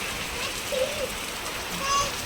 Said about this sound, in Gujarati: આ બધું આ બાજુ હજુ વરસાદ ચાલુ છે